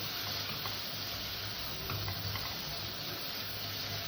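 Spice paste being sautéed in a pan over low gas, a faint, even sizzle with soft stirring and no distinct strikes.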